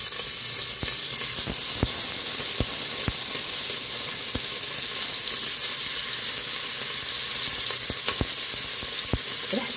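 Lamb cutlets fry in oil in a pan with a continuous close sizzle and occasional sharp pops and crackles, steady throughout and with no talking.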